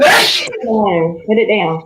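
A single loud, close sneeze bursts out at the start, and a person then speaks briefly right after it.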